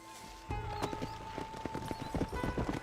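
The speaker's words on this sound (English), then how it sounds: "Monta tu caballo." Horse hooves clip-clop steadily in Red Dead Redemption, a string of sharp, evenly paced hoofbeats over a steady game backdrop, with a brief whinny mixed in.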